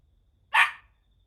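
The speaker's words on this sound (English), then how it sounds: "you can hear a dog barking" A single short dog bark rings out clearly against near silence.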